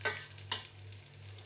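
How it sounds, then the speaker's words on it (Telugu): Cashews, almonds and raisins frying with dry coconut in a pan, a faint steady sizzle with two or three quick stirring scrapes, quiet and close, no voices. "ఇవన్నీ మంచి కలర్ వచ్చే వరకు ఫ్రై చేసుకోవాలి"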